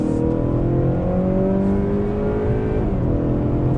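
A 2019 Honda Accord Sport 2.0T turbo engine accelerating out of a bend: a loud, close, steady engine roar with harmonics climbing in pitch as revs build, running throughout.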